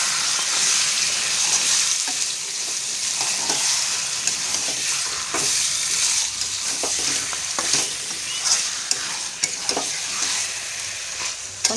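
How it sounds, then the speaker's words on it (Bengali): Duck meat stir-fried with spices in a pan, giving a dense, loud, continuous sizzle with spatula scrapes and stirring knocks scattered throughout, close up. "এখন মাংসটা দিয়ে দেবো, মশলা দিয়ে দেবো, দিয়ে সুন্দর করে কষতে থাকবো"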